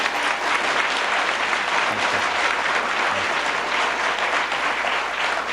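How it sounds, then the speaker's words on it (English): Applause at a community college excellence award ceremony, a dense sustained round of clapping from an audience, steady and evenly loud throughout. "Big round of applause."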